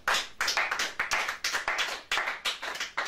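A church congregation claps together in acclamation, a dense, fairly fast run of overlapping handclaps that swells and dips without voices on top.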